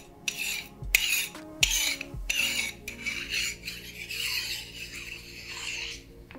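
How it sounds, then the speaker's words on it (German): Metallic rasping and scraping as a metal hood twists onto a Leica Summilux-M 21mm f/1.4 ASPH lens barrel, with a few sharp clicks near the start, close and fairly loud. "Und mein Lieblingsgeräusch, die Sonnenblende."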